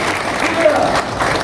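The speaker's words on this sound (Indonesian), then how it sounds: "Kita beri tepuk tangan buat Dewan Pakar Gerakan Rakyat." Applause at an Indonesian political party gathering for Partai Gerakan Rakyat, a brief burst of crowd clapping in a hall with voices mixed in.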